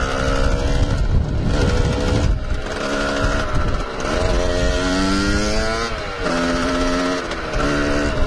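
A Beta 50 RR motorcycle is ridden just after repair, its small two-stroke engine buzzing and rising in pitch through the gears, loud and close, with a rough, unhappy-sounding gear.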